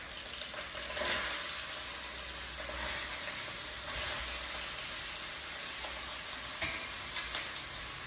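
Green chillies and onion frying in a hot pan while making beef curry, a steady close sizzle with soft stirring scrapes and a few brief clicks, no talking.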